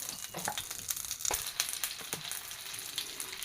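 Cooked pumpkin pieces frying in ghee in a hot pan give a steady soft sizzle with scattered crackles and light scraping clicks. The sound is close and moderately quiet, with no talking.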